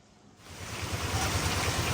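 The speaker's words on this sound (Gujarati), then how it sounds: "દે ધના ધન ચાલુ થઈ ગયો ભાઈ આ તો મેઘરાજા" Heavy monsoon rain pouring down, a dense hiss that swells in within the first half second and then roars on steadily and close, with low rumbling underneath and no voices.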